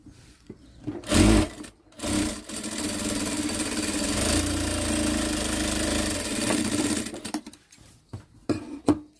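Sewing machine stitching the legs of chudidar pants, running in a few short bursts and then one long steady whirring run with a rapid mechanical chatter, ending in brief stops and starts.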